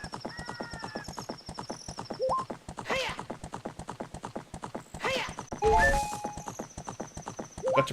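Horse hooves clip-clop in a steady galloping rhythm in the video game Zelda: Ocarina of Time, with a couple of neighs and whinnies rising over the hoofbeats alongside game music and chimes.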